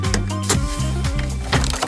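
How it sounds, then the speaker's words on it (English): The bonnet of a 2000 Hyundai Trajet GLS is released, giving a couple of sharp, close wooden-sounding knocks and clunks over a steady humming background. "So we're now going to pop the hood."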